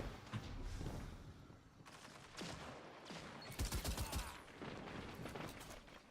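Gunfire in Destiny 2, several bursts of rapid shots and echoing bangs spread across the stretch, moderately faint, with a louder crackling volley near the middle.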